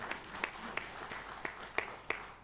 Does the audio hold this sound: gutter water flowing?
no